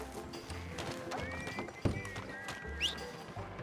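Horse hooves clip-clop in Red Dead Redemption 2, with a whinny rising near the end, over game ambience and background effects.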